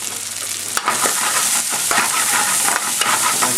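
Green and red pepper pieces frying for chicken jalfrezi, a bright, loud sizzle with clattering stirs and a sharp knock early on, steady throughout.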